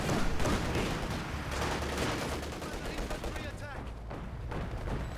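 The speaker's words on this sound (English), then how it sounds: "there's the machine gun shutting down that attack" Machine gun fire in the Company of Heroes 2 video game, bursts of rapid shots over continuous battle noise and explosions, with a commentator talking over it.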